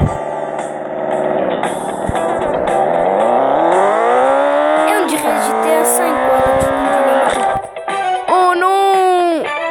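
Cars driving and crashing in the physics game Turbo Dismount: engine drone with shifting, rising harmonics, tire squeals and impact bursts, fairly loud and steady throughout, with a voice talking over it.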